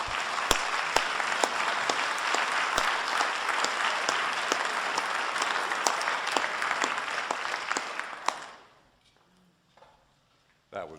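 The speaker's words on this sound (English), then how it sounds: "He deserves another round of applause" An audience at a church and community gathering gives a sustained round of applause, with sharp individual claps standing out before it stops abruptly near the end, leaving near silence.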